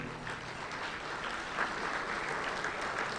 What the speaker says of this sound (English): I know they appreciate that smattering of applause